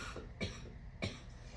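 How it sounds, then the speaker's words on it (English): Two sharp coughs from a person who is a little sick, spaced about half a second apart, close and fairly quiet with faint room tone around them. "I'm going to cough, you guys."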